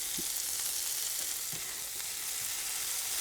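Mushrooms fry in a pan with a continuous bright sizzle, punctuated by a few soft scrapes and taps from stirring.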